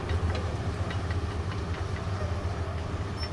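A tiny train runs in the video game URU, a steady low rumbling and clattering drone that holds an even loudness throughout.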